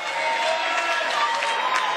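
Applause and crowd noise fill an arena after a basketball team's win at a European team championship in Banská Bystrica, a steady dense wash of clapping and cheering lasting throughout.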